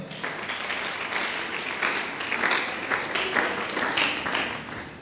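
A church congregation applauds with sustained, dense clapping that swells and dips slightly over about five seconds.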